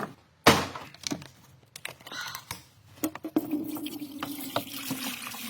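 Water pours into a container after a few clicks and clatters, a steady gurgling stream whose pitch rises as the vessel fills.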